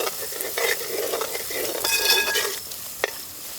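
Ginger garlic paste and ground masala with Kashmiri chili powder, cumin and salt fry and sizzle steadily in a pan for Kerala fish pollichathu, with stirring scrapes throughout and a sharp utensil tap near the end.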